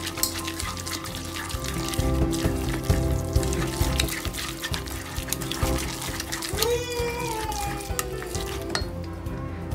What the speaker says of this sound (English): Adding little more water,